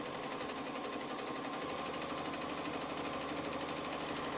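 A sewing machine runs steadily during free-motion quilting, filling a letter-E block with wishbone shapes, a continuous fast needle chatter and motor whir, close and unbroken, with no talking.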